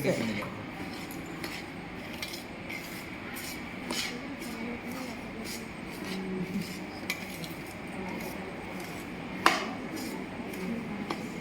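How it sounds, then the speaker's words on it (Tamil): A ladle stirs and scrapes melting sugar in a metal pan, giving steady soft rubbing and light metallic clinks with one sharper knock near the end, with no talking. "சுகர் கிண்டதுக்கு ஈஸியாக இருக்கா?"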